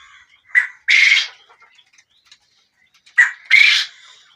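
Chickens in a poultry farm shed give two pairs of short, loud squawking calls close by, separated by a couple of seconds of near silence.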